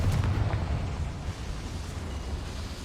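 Bombarda and Confringo spell explosions in the Hogwarts Legacy video game, a loud low rumbling blast at the start that trails off into a sustained roaring decay.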